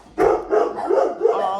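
A dog barks four times in a quick, even rhythm, loud and close, with no other sound around it.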